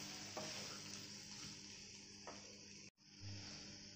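Capsicum pieces being stirred into a sizzling pan for a capsicum and potato masala curry, with steady frying hiss and a few soft scrapes of the spoon, up close, no talking.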